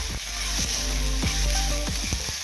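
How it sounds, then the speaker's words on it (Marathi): Onions with ginger-garlic paste fry in a pan with a continuous close sizzle, interrupted by repeated light scraping strokes of a stirring spoon, with no one talking. "मी आलं लसूण पेस्ट घालते एक चमचाभर लालच्या रंगावर छान परतून घ्यायचं"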